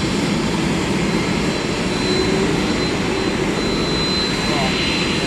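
DHL cargo jet taxiing at East Midlands Airport, a loud steady engine roar and whine filling the air throughout, with faint radio-like voices underneath.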